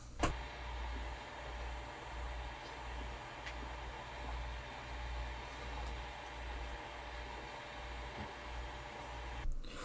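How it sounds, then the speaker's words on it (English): Steady, low mechanical whirring of small 3D printer cooling fans runs continuously with a faint droning hum, with a brief click near the end. "Unfortunately, the fans still run pretty loud, but here, take a listen."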